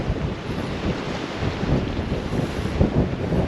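Strong wind buffets the microphone in a steady, loud roar on the bank of the River Humber on England's east coast during a cod fishing trip, with no voices heard.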